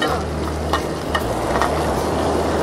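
Paniyaram batter sizzles and fries in a pan cooked outdoors on a beach, a dense continuous crackle with low wind rumble underneath and a few soft clinks of utensils.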